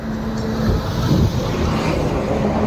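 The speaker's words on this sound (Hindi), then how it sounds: "वाहन की बहुत आवाज़ आ रही होगी इसमें" Steady low rumble of road traffic passing by at a roadside stop, continuous engine and tyre noise filling the background without a distinct single vehicle standing out.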